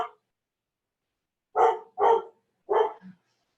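Pet dog barking indoors during a home yoga class, three sharp, loud, close barks in quick succession with a short low huff after, preceded by a clipped yelp and otherwise quiet surroundings.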